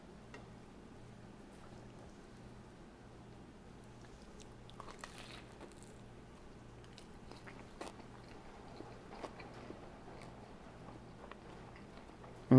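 Soft, close bites and steady chewing of a triple grilled cheese sandwich with three cheeses, three breads and grilled tomato layers, faint crunches over a low background hum with no talk.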